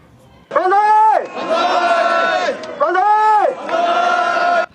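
Hundreds of supporters outside a courthouse cheer an acquittal with loud, close crowd voices raised together in two long, rhythmic, chant-like swells.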